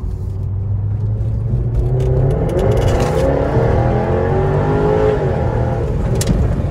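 A powerful Jaguar F-Type R engine roars steadily, its pitch climbing through gears as it accelerates, loud and close throughout.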